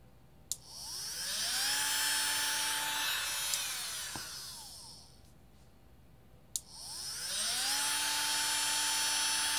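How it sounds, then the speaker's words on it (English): Small motor driven through a two-channel Arduino relay module: a sharp relay click, then a whine spinning up, holding steady and winding down, repeated twice, close and clear with no talking. "So now the load will be on, and then the motor will be on alternatively."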